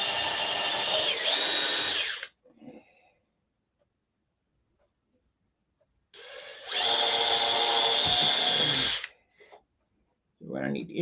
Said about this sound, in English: The human drill press will now operate.